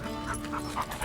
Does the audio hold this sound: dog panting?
yes